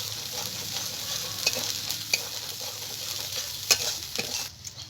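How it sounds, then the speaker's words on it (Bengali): Ground coriander and dried red chilli powder frying together in a pan, a steady soft sizzle with scraping stirs and a few sharper clinks of the spoon, close and alone. "এবার সবগুলো মশলাকে আমি ভালো করে একসঙ্গে কষিয়ে নেব।"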